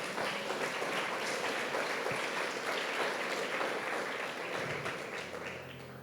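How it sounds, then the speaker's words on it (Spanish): A church congregation breaks into loud, dense applause, many hands clapping in a steady wash that fills the room and tapers slightly toward the end. "Dele un aplauso fuerte al Señor"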